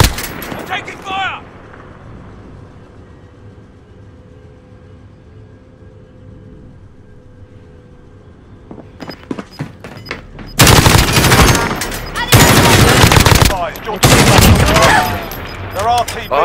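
Warzone video game gunfire: a few sharp shots at the start, then a quiet stretch, then loud bursts of automatic fire and heavy volleys close by dominating the second half.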